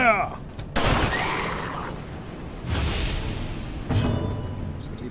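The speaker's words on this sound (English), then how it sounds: "Gunshot blast. Fire!" A gunshot blast attack in the turn-based dungeon game Darkest Dungeon fires as a few loud, sharp bursts, each followed by a fading whoosh and rumble, with game sound effects layered between them.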